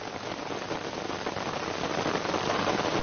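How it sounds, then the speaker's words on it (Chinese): Heavy rain pours over farmland and a riverbank in a dense, loud, unbroken patter on the ground and water, close and even throughout. "大雨灌溉着农田，也拍打着河堤"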